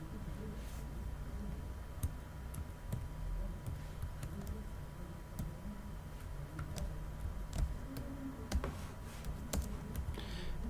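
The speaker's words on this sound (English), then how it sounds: "This keyboard is bigger than my keyboard and I keep mistyping" Fast, uneven typing on a large computer keyboard, with many light clicking keystrokes over a steady low background hum, close and moderately quiet.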